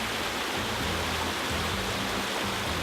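Mountain torrent rushing through a vaulted underground channel beneath an old cement works, a steady, dense broadband roar of flowing water that holds evenly throughout with no voices.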